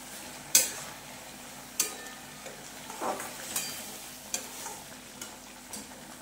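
Hariyali chicken frying in a pan as garam masala goes in and a spoon stirs it, with a quiet steady sizzle broken by sharp metallic scrapes and clinks at irregular intervals, no voices.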